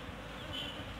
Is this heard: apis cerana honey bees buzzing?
yes